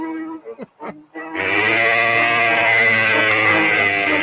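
A cow lets out one long, loud, sustained moo that starts abruptly after a few short vocal sounds and carries on steadily to the end, close and dominant.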